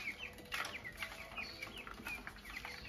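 Young chickens in a farmyard peep and cluck during feeding, a busy run of short, high calls repeating through the whole stretch at moderate distance, with no talking.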